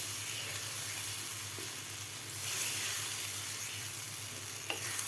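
Besan batter with raw mango being stirred in a pan, a steady soft sizzle and hiss with faint scraping running throughout, fairly quiet and without voices.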